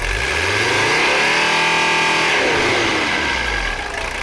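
A Mercedes 300CD diesel engine revving up and holding a high, steady roar before easing back down, heard up close.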